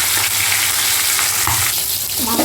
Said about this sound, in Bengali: ইলিশ মাছের মাথাটা খুব ভালো করে আমি ভেজে নেব